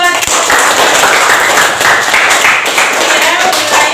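A classroom group claps during a civics lesson, a dense burst of many hands applauding, loud and close, continuing steadily for several seconds.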